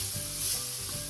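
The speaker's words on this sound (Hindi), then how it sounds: "अदरक और लहसुन का पेस्ट को हमने 1 मिनट तक ऐसे ही भून लेंगे" A continuous, close sizzle of ginger-garlic paste frying in hot oil, with a faint stirring scrape partway through; no voices.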